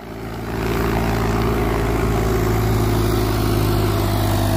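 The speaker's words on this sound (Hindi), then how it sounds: "रडाक सुनो भाई, रडाक ट्रैक्टर का" An Indo Farm 3048 tractor's diesel engine runs close by, a loud, steady throbbing drone with a strong low rumble that holds constant after a brief rise at the start.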